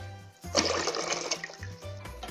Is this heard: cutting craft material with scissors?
no